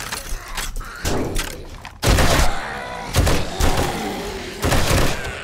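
Gunfire in the video game 7 Days to Die: several loud, sharp bursts of shots spaced out over a few seconds, each ringing off with a short decay.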